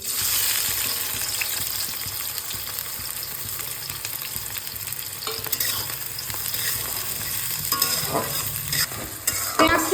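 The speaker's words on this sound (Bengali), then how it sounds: "এবার আমি কুচনো পেঁয়াজগুলো এর মধ্যে দিয়ে দিচ্ছি" Chopped onions fry in hot oil with cloves and cardamom, a dense, loud, steady sizzle close by with stirring scrapes growing more noticeable in the second half, no voices.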